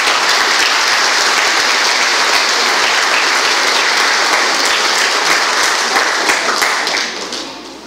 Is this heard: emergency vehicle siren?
no